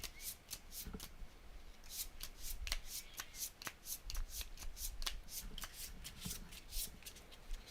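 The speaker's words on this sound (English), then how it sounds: "And I'll shuffle." Playing cards shuffled during a tabletop card game, a close, fast riffle of crisp flutters and snaps repeating in quick bursts for several seconds, with no talk over it.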